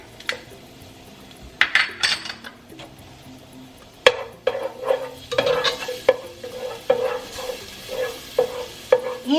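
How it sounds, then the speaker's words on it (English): Garlic cooking in a little olive oil in a warm pot, with stirring scrapes and clinks of a utensil against the pot over a soft sizzle, strokes coming in irregular bursts, close and without talk. "I'm going to warm up a pot, and I'm going to add, I added a little bit of olive oil, and I'm going to add the garlic"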